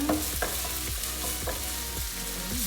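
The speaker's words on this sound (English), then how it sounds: "we're going to start with our garlic and ginger. And then we're just going to stir that around to get the flavors going" Garlic and ginger stir-frying for chicken chow mein, with a dense, close sizzle under rhythmic scraping strokes of a spatula roughly twice a second.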